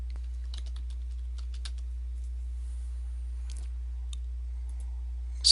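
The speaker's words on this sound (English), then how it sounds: "So type in that search term." Someone types a search term on a computer keyboard, with quick bursts of light clicking keystrokes, close and clear over a low steady hum, and no voices.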